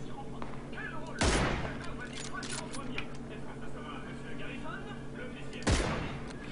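Two sharp, loud gunshot cracks ring out in PUBG, spaced several seconds apart over steady game ambience and low background chatter.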